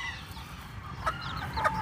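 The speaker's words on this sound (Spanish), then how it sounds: "Un pollito y una pollita." Chickens and chicks cluck and peep faintly at close range, with several short, high calls clustered toward the end over a low background rumble.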